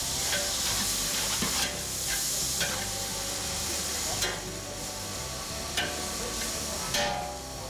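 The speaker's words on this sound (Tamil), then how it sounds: "ஸோ நான் இப்போது நம்ம கிண்டிட்டு இருக்கோம்." Onions frying crisp in a pan for chicken biryani, stirred with a steady sizzle and hiss and occasional sharp scraping strokes of the spoon against the pan, continuous and close.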